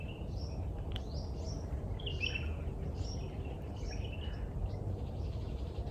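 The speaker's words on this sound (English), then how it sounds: "you just feel and hear nothing except birds" Birds chirp and call in short bright bursts through an oasis in Al Ain, Abu Dhabi, several voices scattered across the clip over a steady low background rumble, moderately faint and with no talking.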